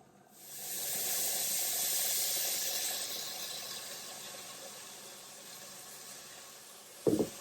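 Tomato sauce in a pot gives a strong hissing sizzle that rises quickly and holds, then slowly fades to a softer simmer, ending with a brief clatter near the close.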